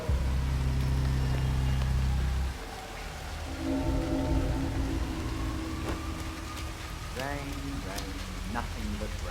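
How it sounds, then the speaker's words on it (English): Rain falls steadily in the Hitman 3 video game. A soft constant hiss sits under a low droning hum, with a few brief tonal game sounds later on. "Nothing but rain."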